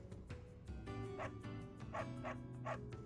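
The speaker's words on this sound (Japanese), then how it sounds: "吠えられると、負けるかーって気持ちになるな。" A dog in the Fire Emblem Three Houses video game barks in a quick series of yips and woofs, five or six close, fairly loud barks over a steady background music bed.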